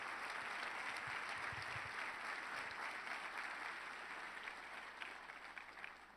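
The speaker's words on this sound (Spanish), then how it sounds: "Vamos, ese aplauso al Señor." Sustained applause from a large church congregation, dense steady clapping throughout, fading slightly toward the end.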